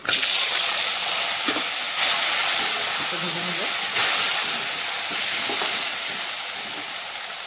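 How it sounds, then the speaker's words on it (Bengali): Potatoes fry loudly in oil left from frying fish heads, seasoned with cumin and bay leaf, a dense close sizzle with occasional stirring scrapes and faint muffled background speech. "আলুটা ভালো করে ভেজে নিব।"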